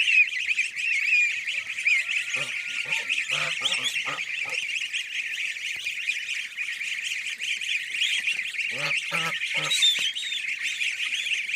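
Geese squawk and honk in a farmyard also home to ducks and chickens, with loud, continuous nasal calling from several birds and bursts of harsher honks breaking through, fairly close.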